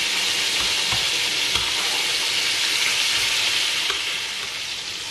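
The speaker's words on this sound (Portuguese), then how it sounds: "apago o fogão, porque o peixe já está frito" Fish frying in a pan on a stove, a loud, steady, dense sizzle and crackle of hot oil that holds constant for the whole stretch, close by and alone without any talking.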